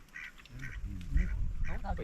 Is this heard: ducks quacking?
yes